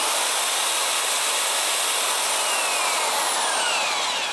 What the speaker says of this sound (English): Okay, can it power a 10 amp hammer drill?